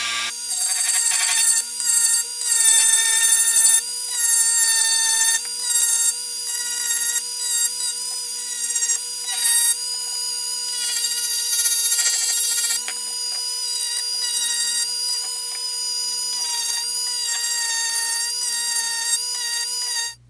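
A Dremel with a 60 grit sanding band whines steadily at high pitch as it stipples the polymer frame of a Glock 19 Gen 4, running in repeated bursts with short pauses, close and alone.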